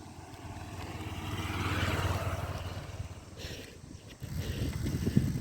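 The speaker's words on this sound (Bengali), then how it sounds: "কাঁটা কাঁটা গাছ হয়ে যে বাইক নিয়ে আসছে" A motorcycle approaches along a thorny village road, its low engine drone rising and swelling under wind noise, then growing closer and rougher toward the end.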